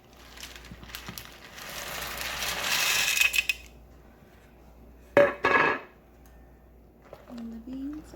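Dry white beans poured into an Instant Pot with sausage, then stirred: a long rattling pour of hard beans against the metal pot, followed by two short scraping stirs, nearby and moderately loud.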